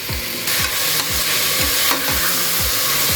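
Tomatoes sizzling in hot oil with spices for a beef curry, a loud, close, steady frying hiss with rhythmic scraping stirs about every half second, no talk.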